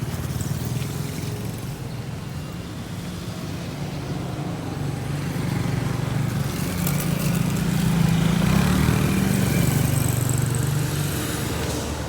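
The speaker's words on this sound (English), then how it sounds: "As you can see, traffic is quite a lot." Road traffic on a busy street passes continuously, a steady rumble of car and motorcycle engines that swells louder midway as nearer vehicles go by, heard from the roadside with no talk.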